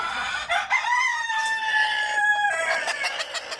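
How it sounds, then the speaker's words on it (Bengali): Egyptian Fayoumi hens sitting in a coop give a steady run of clucks and drawn-out crowing calls, close and fairly loud, with no voices. "এই যে দেখেন আমাদের মুরগিগুলো বসে আছে।"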